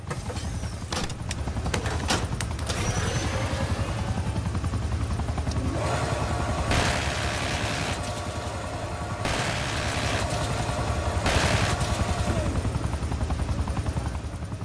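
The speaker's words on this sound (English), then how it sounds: "Get me a chopper cannon!" In Call of Duty Black Ops 6 Zombies, a helicopter's chopper cannon fires in rapid bursts over a steady rotor drone, with heavy impacts repeating through the scene.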